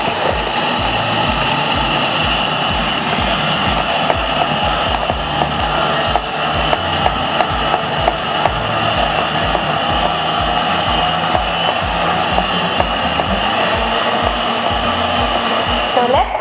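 Blender whirring steadily as it mixes a milkshake until smooth, a loud continuous motor drone with no pauses and no voices.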